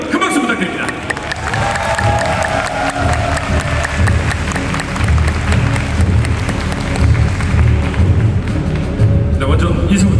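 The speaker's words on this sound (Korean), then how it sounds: "여러분 큰 박수 부탁드립니다." A large festival audience at Black Desert Festa 2023 applauds and cheers, a dense, sustained wash of clapping and crowd noise that fills the hall from start to finish.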